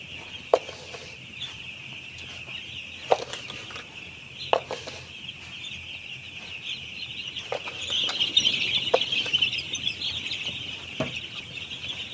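Broiler chickens in a poultry house feeding from a feeder, a steady hum of soft clucking and chirping from many birds with occasional sharp clicks and a brief wing flutter, distant and continuous.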